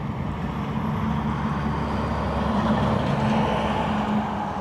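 An Aer Lingus airliner arriving from Prague at Dublin Airport gives a steady, loud engine rumble with a broad roar that holds evenly throughout, with no talking.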